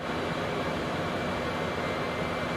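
Concorde jet engines in the X-Plane 12 flight simulator produce a steady, loud broadband roar with a faint whine, unbroken for the whole stretch and with no talk over it.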